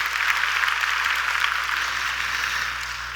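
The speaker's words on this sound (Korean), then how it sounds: "다시 한번 제프 첸 CTO님께 박수 한번 부탁드리겠습니다." A conference audience claps together in sustained, even applause that slowly tapers off toward the end.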